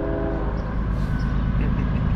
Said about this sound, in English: CSX M404 eastbound. Lay on that horn.